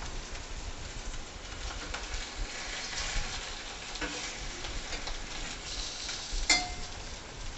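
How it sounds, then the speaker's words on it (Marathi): Coconut-stuffed green chillies fry in a pan with a continuous soft sizzle, and one sharp metallic clink comes late as they are flipped; birds call faintly in the background. "पुन्हा आपण ही मिरची अलगद हलक्या हाताने पलटी करा, म्हणजे त्यातलं खोबरं बाहेर येणार नाही।"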